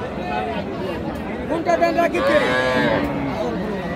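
A cow lows loudly and close at a cattle market, a drawn-out moo rising in the middle, under steady crowd chatter and people talking nearby.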